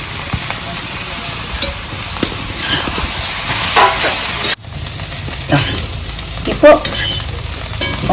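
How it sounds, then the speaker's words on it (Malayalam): Crushed garlic hits a hot pan while frying a bitter gourd pickle, giving a steady broadband sizzle with stirring scrapes and a brief dip midway before the frying noise swells again. "അപ്പോഴേക്കും നമുക്ക് ഇനി നമ്മുടെ ചതച്ച് വെച്ച വെളുത്തുള്ളി കൂട്ടാം"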